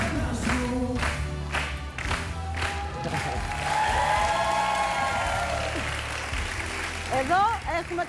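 Studio audience applause on a Greek TV talk show, a steady wash of clapping that swells and holds under a voice, with musical tones and a rising flourish near the end.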